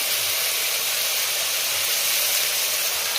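Chili paste sizzles steadily in hot oil over a high flame, a loud, even, continuous hiss from start to finish with no talking.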